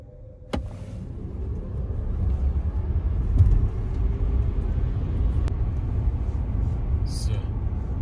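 NIO ET7 electric car set to Sport Plus, accelerating hard during a 0-100 km/h run: a steady low road and motor rumble that builds and holds throughout, with a sharp click near the start and a brief faint chirp near the end.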